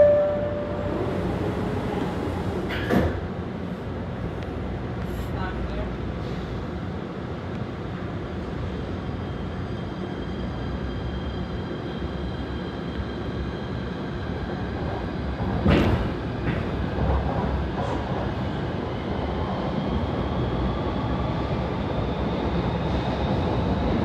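A steady low rumble and rattle of a PATH commuter train, a PA-5 car, in motion from Hoboken to World Trade Center, with a couple of sharp squeals and clanks partway through.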